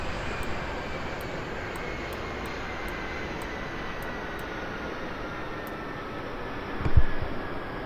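A Dornier 328-110 turboprop's left engine is shut off in the X-Plane 12 flight simulator, giving a steady, loud broadband engine roar with a brief thump near the end.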